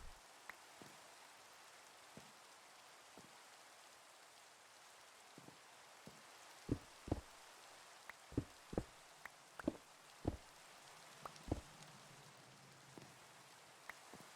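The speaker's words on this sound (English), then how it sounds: "it's raining a lot in Nova Scotia as well" Rain falls quietly and steadily, with scattered individual drops tapping sharply on a hard surface nearby, some louder knocks clustering toward the middle.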